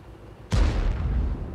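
A single deep, booming tank cannon shot in the video game World of Tanks, striking suddenly and loudly after a quiet moment, then rolling into a sustained low rumble.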